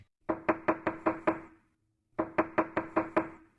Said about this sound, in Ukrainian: Стукає молоток.